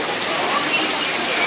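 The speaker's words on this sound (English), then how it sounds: "you get the fountains going and it's loud" Water fountains run steadily in a haunted-tent water room, a loud, continuous broadband rush and splash like a small waterfall filling the space without letup.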